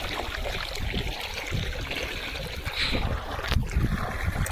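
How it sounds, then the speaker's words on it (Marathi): Hands are washed under running water at an outdoor washing spot on a farm beside sugarcane fields. The splashing and rushing water is close and continuous, mixed with a gusty, wind-like rumble. "तर आता इथं हात धुतोय"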